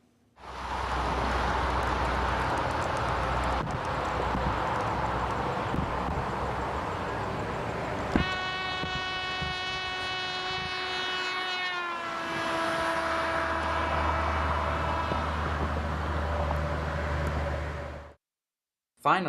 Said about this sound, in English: Now, we'll listen to the trumpet as it drives by.